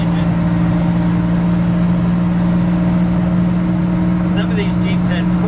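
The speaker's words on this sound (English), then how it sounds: "Pretty good torque on this engine." A 1968 Jeep Commando with a Dauntless V6 pulls uphill, its engine holding a steady, loud mid-pitched drone with a strong hum throughout, a few faint high chirps near the end.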